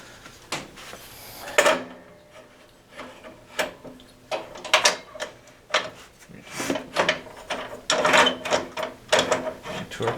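A metal tool rest on a woodturning lathe being shifted back into position, a series of irregular close clunks, scrapes and rattles of metal parts, some sharp knocks louder than others, with no talking.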